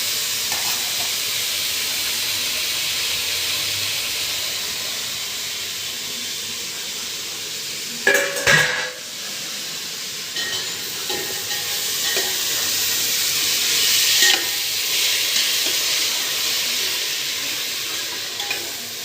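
Onion and whole spices sizzle loudly in a hot pot, a steady frying hiss lasting about nineteen seconds, broken by a clatter of stirring partway through, with no voices.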